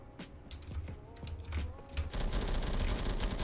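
Rapid bursts of HK51B rifle fire in the video game Roblox Phantom Forces, sharp close shots at first in a quick irregular rhythm, then a denser continuous rattle of gunfire.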